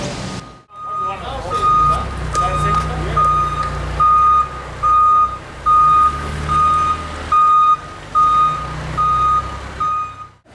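A truck's reversing alarm beeps in a steady repeated rhythm, about seven pulses, over a low idling engine rumble, with people talking faintly in the background.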